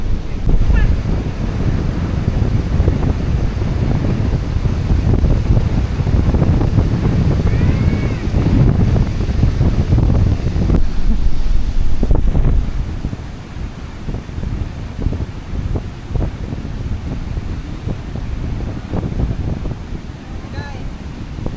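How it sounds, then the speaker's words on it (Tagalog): Strong wind blowing through a camping site, a loud continuous low rumble with microphone buffeting that eases somewhat after the midpoint, with faint voices underneath. "Yes, yung hangin dito."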